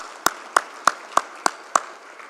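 Six sharp, evenly spaced claps from a single pair of hands at a formal memorial forum for the late Benjamin Mkapa, each one loud and close against a quiet background.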